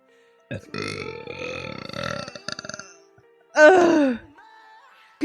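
A woman burps loudly twice, a long drawn-out groaning belch followed by a shorter, sharper one after a pause, close to the mic with no talk.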